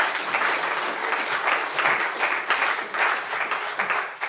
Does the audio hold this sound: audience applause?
yes